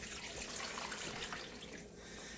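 Broth poured over a pot roast in a 6-quart slow cooker, a steady continuous liquid splash and trickle heard up close, with no talking.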